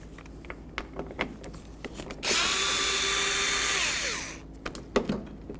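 A power tool loosens T27 Torx latch bolts on a Jeep Liberty door, whirring in one steady close burst of about two seconds amid scattered clicks and handling knocks.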